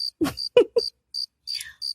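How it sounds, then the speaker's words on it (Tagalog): Crickets chirp in a regular pulsing rhythm, several short bright trills spaced evenly, with a voice-like sound breaking in briefly. "maging ang masayang musika ay nahinto at tanging kuliglig lang ang maririnig"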